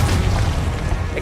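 A Confringo spell blast in Hogwarts Legacy lands as a loud, deep boom with a heavy sustained low rumble, close and without talk.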